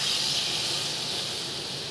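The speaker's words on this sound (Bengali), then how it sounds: "জল দেওয়া হচ্ছে।" Water poured into hot frying masala for an egg and potato curry gives a broad, steady steam hiss, loud at first and easing slightly as it settles, close by with no voice.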